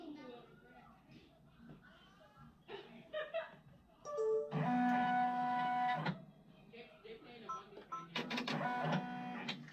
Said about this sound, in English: So now I'm making the placement stitch for the bow.